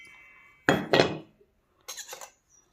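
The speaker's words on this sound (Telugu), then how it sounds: "ముందుగా మిక్సీ జార్లో పల్లీలు," Peanuts are tipped into a mixer jar for tomato chutney in two short bursts of rattling, clinking pours against the jar, close and otherwise quiet.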